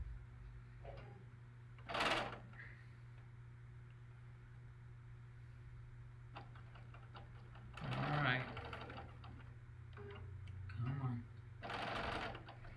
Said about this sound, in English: So now put it right sides together and sew with that skinny seam allowance.